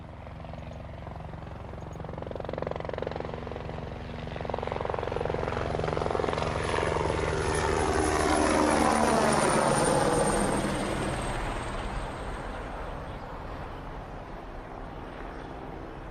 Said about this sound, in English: Every time I hear a helicopter go over